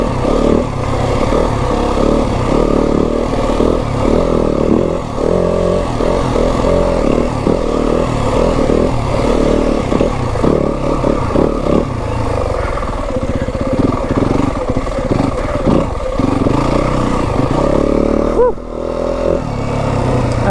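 A Yamaha WR 250F dirt bike engine works along a Kelly Canyon single track trail, buzzing loud and close for the whole stretch with steady throttle changes and clattering over rough ground.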